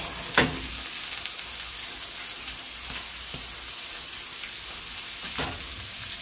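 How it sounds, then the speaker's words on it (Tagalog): Onion and cabbage sautéing in a pan, a loud steady sizzle held throughout with a few scattered scrapes and taps of a stirring utensil, no voices. "igisa lang konti ang ating uh, sibuyas the onion and then the cabbage"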